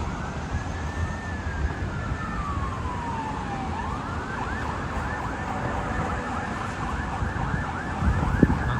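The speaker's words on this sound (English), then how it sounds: "Sounds like a fire engine." A fire engine siren wails far off along a Toronto city street on a Thursday evening, its rising and falling tone sweeping over a steady wash of traffic and street noise.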